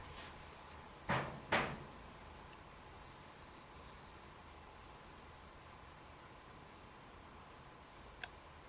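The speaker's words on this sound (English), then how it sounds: "And to knock on this door, can you knock back?" Two distinct knocks on a door in a quiet room at night, sharp and fairly close, then a faint single tick later amid steady low background hiss.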